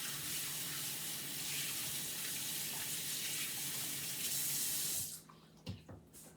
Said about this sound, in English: So wash your hands really good.